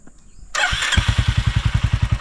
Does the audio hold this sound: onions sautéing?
no